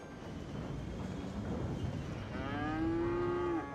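A cow in Cities: Skylines lets out a long, low moo near the end of the stretch, standing clearly above a steady background hum of city ambience.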